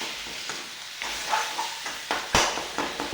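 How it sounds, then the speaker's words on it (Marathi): Mashed eggplant bharit frying and being stirred in a pan, a soft steady sizzle broken by scraping spatula strokes and one sharper clatter near the end, close and alone with no voices. "तर याला 2 मिनटं परतून घ्यायचं आणि भरीत टाकायचं बारीक केलेलं."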